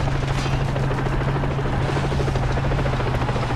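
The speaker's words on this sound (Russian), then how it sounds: "Действительно, вертолета нам еще здесь не хватает." A helicopter in the video game Far Cry 3 gives a steady, loud rotor drone with a constant low hum, continuous throughout with no talk.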